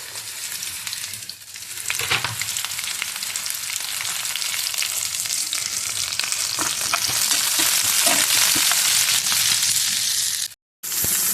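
Green chili, ginger and garlic sizzle steadily with onions in hot oil while making Hyderabadi paneer masala, a loud continuous frying hiss with occasional stirring scrapes, ending in a brief silence.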